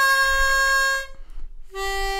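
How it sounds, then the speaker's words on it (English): A harmonica in second position sounds a bent-down draw note on hole four within a one-octave blues scale, a steady harmonic tone that breaks off briefly before a second sustained note enters. "Four draw bent down."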